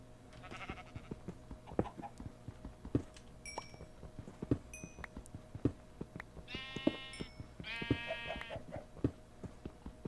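Two bursts of Minecraft sheep bleating, fairly close, over a busy background of scattered clicks and low ambient hum.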